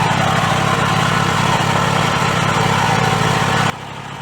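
A generator engine converted to run on gas holds a steady, even drone at constant revs, loud and close, then drops sharply in level near the end with no talk over it.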